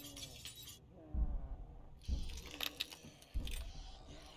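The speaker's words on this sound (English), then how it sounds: "let's remove the broken glass from here." Broken window glass being knocked out and cleared in the zombie survival game Project Zomboid, heard as three sharp shattering crashes with tinkling shards, spaced about a second apart over low background game ambience.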